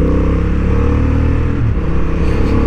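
A Honda Hornet 750 motorcycle on a racing track, revving with a continuous loud engine drone and quick-shifter downshifts blipping through, close and steady for under three seconds.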